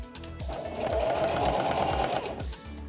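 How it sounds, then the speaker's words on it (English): A sewing machine stitches fabric for an animal hat, running in a fast steady mechanical whir with a short start, sustained burst and slowdown, close and clear, without talk. "You can risk sewing over the pins like I just did, which is risky to your machine"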